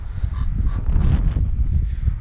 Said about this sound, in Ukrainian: Ой, пташка.